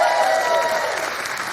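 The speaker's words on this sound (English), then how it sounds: "Give yourselves a round of applause" Audience applause filling the room, a dense, steady wash of many hands clapping at close range, loud and sustained without a break.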